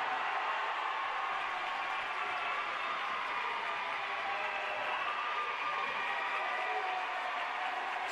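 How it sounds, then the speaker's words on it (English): Crowd noise in a basketball arena in Shreveport during a men's championship game timeout, a continuous distant roar of cheering and shouting held at a steady level for several seconds, with some voices in the mix. "Crowd here in Shreveport getting quite rowdy at the moment."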